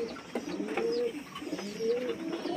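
Home-bred Kalanga and Fotka-line pigeons cooing close by, repeated rolling coos in a steady rhythm over about two and a half seconds, with no talking.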